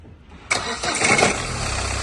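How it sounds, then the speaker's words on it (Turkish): A Renault car engine cranks and fires up abruptly, then settles into a steady idle with a faint ticking noise running through it. "Marşa basarken sesi bir de buradan dinleyelim."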